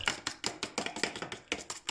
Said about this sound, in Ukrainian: Збиваємо, треба чуть-чуть перемішати, збити.